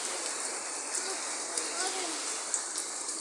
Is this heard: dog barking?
no